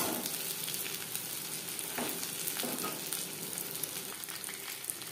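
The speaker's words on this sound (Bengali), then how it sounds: "উল্টে পাল্টে ক্রিস্পি করে ভেজে নিয়েছি" Fish frying in hot oil in a home kitchen, a steady close sizzle and crackle running throughout with a few brief stirring or turning scrapes, no voices.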